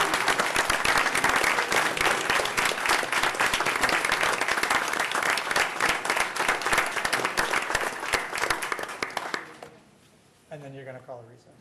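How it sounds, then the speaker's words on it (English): A board of education meeting audience gives retirees a long, dense round of applause that runs nearly ten seconds before fading, followed by a brief spoken voice. "if we could just give them one last round of applause"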